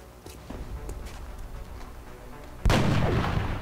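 A sniper rifle shot in the video game XCOM: Enemy Unknown, a sudden loud boom cutting in late after a stretch of quieter ambient rumble and small clicks, leaving a dense, sustained roar.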